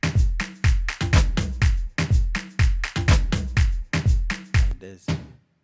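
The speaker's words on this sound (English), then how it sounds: "these extra percussions in a song, they sound like" Hard Afro House percussion samples, punchy toms and hard snares, hit in a fast driving pattern of loud, close, dry strikes with short decays, played alone before the last hit rings out.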